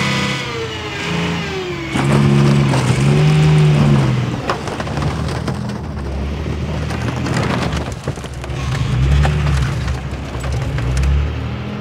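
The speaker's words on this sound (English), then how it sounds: "Well, there you have it, one crushed car." A tank crushes a car amid heavy engine roar, revving rises and booming crunches, loud and close throughout with a few tonal swells.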